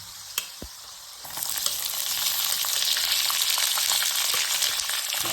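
Chopped onions dropped into hot oil with peanuts, a couple of knocks followed by a loud, steady frying sizzle that swells and holds close by, no voices.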